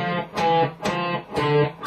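Classical guitar playing a short Bach passage, four plucked notes ringing in a slow, even phrase, each with a bright attack and a sustained decay, close and clear with no talking.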